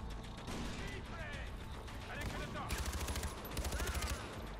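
Rapid bursts of automatic gunfire from a Far Cry 4 firefight on the Sleeping Saints mission, rattling in clustered volleys over dense, continuous battle noise, with a voice speaking in between.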